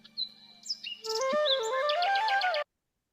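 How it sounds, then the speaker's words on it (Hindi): Clear, bright calls of forest birds ring out close by: a few short chirps, then a rapid descending run of whistled notes before sudden silence. "पक्षियों की आवाज आ रही है"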